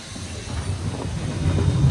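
A blower in a filter and sieve combo cleaning system runs with a steady low rumbling hiss that builds slightly in loudness over a couple of seconds.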